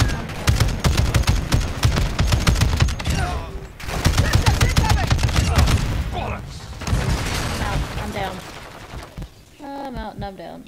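Rapid bursts of gunfire and machine-gun fire from the video game DMZ rattle loudly and repeatedly, broken by short pauses, with people talking over the shooting.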